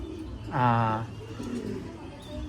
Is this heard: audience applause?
no